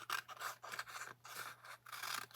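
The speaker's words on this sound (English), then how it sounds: "Sometimes I like to do it with my scissors that I use for anything that's got glue on it" Scissors cut through sticky cardstock in a series of close, crisp snipping and scraping strokes, several quick cuts in an uneven rhythm with no talking.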